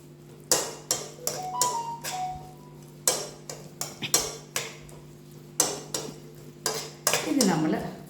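A spatula scrapes and clacks against a pan as chili powder is sautéed for dragon chicken, giving an irregular run of close, sharp knocks and scrapes with no talking.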